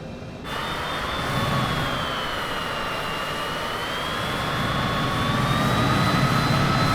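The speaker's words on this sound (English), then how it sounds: "Stand on the brakes and run up the engine." A MiG-15 jet engine in Flight Simulator 2020 runs up while the aircraft holds on its brakes, giving a loud, steady roar with a high whine that climbs slightly in pitch throughout.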